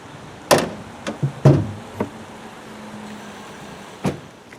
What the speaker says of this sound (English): Let's pop open the bonnet and have a listen